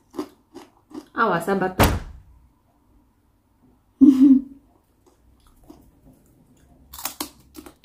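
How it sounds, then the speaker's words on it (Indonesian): Homemade crispy potato chips are bitten and chewed close to the mic in sharp, scattered crunches, with a short spoken line partway through. "makan keripik, makan potato chips"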